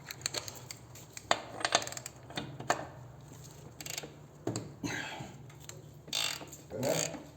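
Metallic clinks, taps and ratcheting clicks come in scattered bursts at close range as the axle nut comes off a 2021 Harley-Davidson Road Glide Limited in a quiet workshop.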